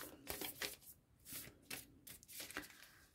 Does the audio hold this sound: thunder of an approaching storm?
no